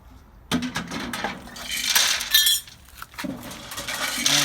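Wood pellets pour out of a Pit Boss grill hopper through the purge opening, a loose rattling, clinking cascade that swells and thins over a few seconds, close and fairly loud.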